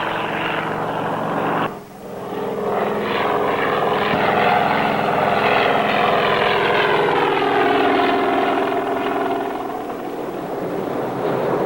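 A Coast Guard helicopter drones steadily overhead, its rotor and engine producing a loud, sustained mechanical roar that barely wavers throughout.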